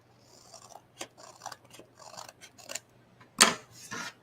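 Scissors snip through overhanging scrapbook paper in a few short, close cuts, with one sharper, louder snip near the end, on a quiet tabletop with no talking.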